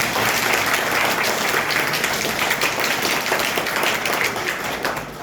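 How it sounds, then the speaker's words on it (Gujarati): An audience at a school function bursts into steady, loud applause for Jigar Thakkar, a dense wash of many hands clapping that holds throughout before easing slightly at the end. "જીગર ઠક્કર માટે જબરદસ્ત તાળીઓ થઈ છે"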